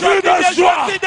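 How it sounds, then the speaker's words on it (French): Church congregation at a preaching seminar crying out with joy, a loud burst of overlapping yells and whoops that rises and falls in short waves with brief dips between them. "Les cris de joie."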